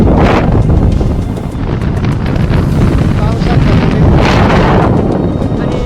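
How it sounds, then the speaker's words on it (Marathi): Strong wind buffets the microphone continuously at Bhandardara Dam, a stone dam in Akole taluka, a loud roaring rumble with gusting surges throughout. "वारा लय भरपूर आहे"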